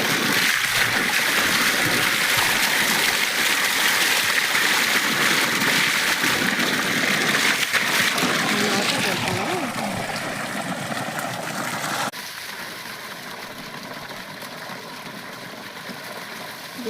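Water gushes from a motor pump used for watering orchard trees as a steady, loud rushing splash with a faint engine undertone, then drops to a quieter, thinner flow near the end; no one speaks.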